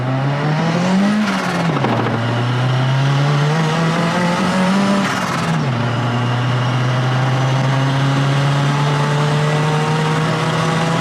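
VW Golf Mk1 GT with a 2-litre 16-valve turbo engine pulling hard under boost, its loud droning note climbing, dipping briefly at two gear changes, then rising steadily again from close inside.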